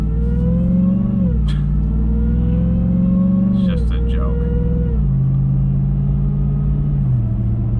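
A 2022 RAM TRX pickup with a supercharged 6.2-liter Hellcat V8 pulls away, its deep engine drone rising and falling through several gear changes and staying loud throughout, with a short spoken remark over it.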